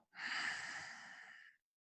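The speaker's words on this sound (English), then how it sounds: "Now exhale." A single long, breathy exhale during a Nei Kung breathing exercise, close and soft, lasting over a second before fading into silence.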